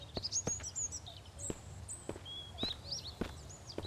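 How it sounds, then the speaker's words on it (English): A cuckoo and other birds calling in the woods of the survival game Mist Survival: scattered high chirps and whistles, fairly faint, mixed with steady footstep thuds. "I'm still hearing a cuckoo bird."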